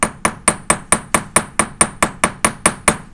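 Metal hammer tapping a wire rivet on a metal piece, a fast even series of about fourteen sharp ringing strikes, close up and alone.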